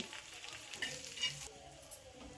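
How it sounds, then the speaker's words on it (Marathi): Garlic frying in oil until brown, a soft, steady sizzle with light stirring scrapes and a couple of small clicks, fairly quiet and close, with no talking. "लसणाला ब्राऊन कलर येईपर्यंत लसूण परतून घ्यायचं आहे"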